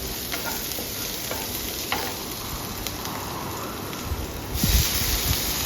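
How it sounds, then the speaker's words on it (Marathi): Onion sautéing in a pan, a dense steady sizzle with faint intermittent stirring scrapes, close and even, swelling into a brief louder stir near the end. "कांदा थोडासा परतून घ्यायचा"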